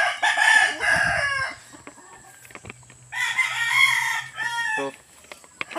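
A rooster crows loudly twice, long drawn-out calls separated by a short pause, with faint clucking and other birds in the background.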